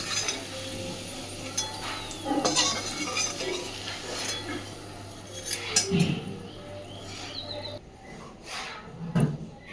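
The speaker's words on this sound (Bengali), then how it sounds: "পেঁয়াজটাও ডিরেক্ট ওই আলু সিদ্ধর মধ্যেই তুলে নিচ্ছি" A spoon scraping and clinking against a pan and bowl while fried onion is lifted from oil into boiled potatoes, a series of irregular close metallic knocks and scrapes with quieter gaps.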